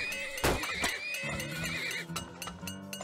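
Horses in the Turmoil video game give a loud, close whinny, a shrill rising and falling neigh with a sharp snort near the start and clattering game sounds trailing after.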